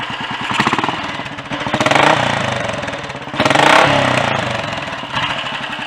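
A freshly rebuilt Royal Enfield Bullet 500 single-cylinder motorcycle engine runs steadily on a workshop bench, loud and close, its rapid thumping exhaust pulse swelling with two throttle blips.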